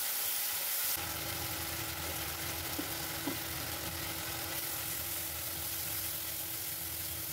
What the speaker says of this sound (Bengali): ওর সাথে কাশ্মীরি লাল মির্চের গুঁড়ো আর একটু হলুদ দিয়ে ওটাকে আর একটু পাকাবো।